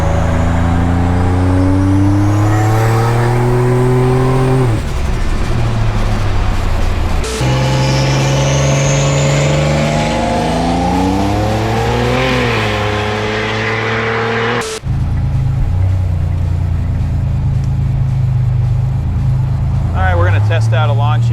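A 1987 Buick Grand National with a 70mm turbo pulls hard in second gear, its engine note climbing loud and close through rising revs, breaking at shifts and winding up again, with a voice speaking over the roar.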